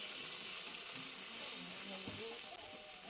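Mustard paste hits hot oil in a pan, giving a steady, close hissing sizzle that carries on without a break for a few seconds.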